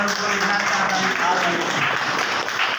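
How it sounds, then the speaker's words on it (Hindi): An indoor audience claps for a woman in a classroom-style training session, a brief, steady patter of applause mixed with voices talking over it. "दीदी के लिए जोरदार ताली।"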